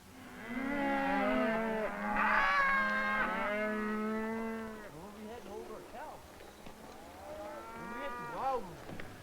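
Several cows moo in long, drawn-out calls, overlapping at first, then a few more lowing calls after a short pause, fairly close by.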